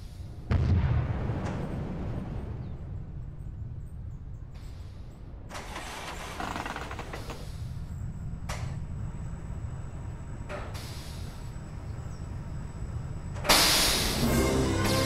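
Space Mountain roller coaster at Disneyland Paris recreated in the NoLimits2 game, with rumbling ride noise, several sharp booming bursts and a loud rushing launch surge near the end.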